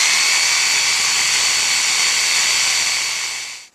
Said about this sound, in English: take a sawzall with a fine tooth or a fine tooth handsaw and cut it off